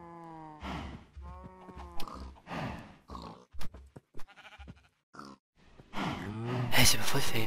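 Pigs grunting and oinking on a farm in Minecraft, a string of short close grunts and squeals in uneven bursts, with a voice talking alongside and a louder rustling stretch at the end.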